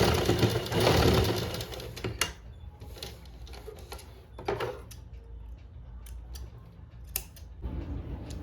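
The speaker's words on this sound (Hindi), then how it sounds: "थोड़ा सा ही जो गैप है इस पर ओवरलॉक कर लेती हूँ" An overlock sewing machine stitching along a small gap in a garment's side seam, a loud mechanical whir at first that drops away, followed by scattered clicks and handling noises close by.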